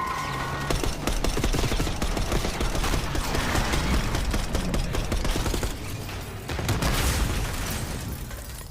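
Sustained automatic gunfire aimed at a limo in the Call of Duty: Black Ops 6 campaign, with booming bursts, a brief dip near the end, then another loud volley.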